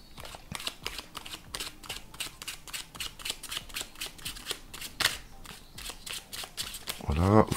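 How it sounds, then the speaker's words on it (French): A deck of playing cards is shuffled by a magician doing a self-working card trick, giving a steady run of quick, crisp riffling flicks close to the mic, with a slightly louder burst near the end. "Donc on mélange un peu ces cartes."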